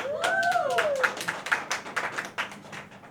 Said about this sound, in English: Round of applause for Malika Tracy, please.